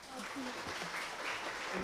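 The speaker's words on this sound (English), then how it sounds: "Give applause." An audience at an English-language-teaching conference applauds to welcome a presenter named David: a steady, even wash of clapping that holds at moderate level for the full two seconds.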